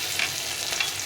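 Ginger paste sizzles in hot oil for Bengali shukto lentil dal, a short, steady crackling hiss with faint stirring ticks close by, no one speaking.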